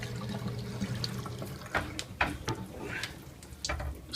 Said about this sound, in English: when you start your dishwasher and it gets to the rinse cycle, it starts to shoot water out